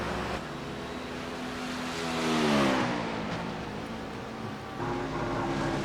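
The V-Apex yellow prototype race car in iRacing at Road Atlanta sweeps past, its engine note rising and falling in pitch as it closes in and pulls away, loud and alone.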